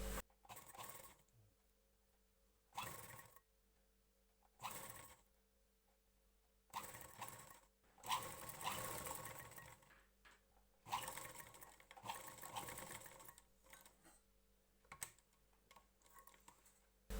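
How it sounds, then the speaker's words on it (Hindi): A sewing machine stitches a blouse neck in quiet short bursts, running in separate stretches with brief pauses between them, close but soft, with no voices. "अब हम इसके ऊपर सिलाई लगाएंगे।"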